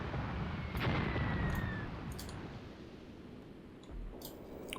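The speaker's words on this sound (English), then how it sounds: "It's artillery flattening that position nicely." Artillery fire in a World War II tank warfare video game set at Longstop Hill, Tunisia, 1943: booming low rumble with sharp high cracks, a whistling streak and a distant explosion near the end, without talk.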